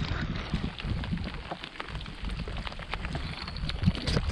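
Rain falling steadily on a boreal forest lake, a soft continuous patter of drops with scattered sharper ticks close by, mixed with light wind and faint water movement, no voices.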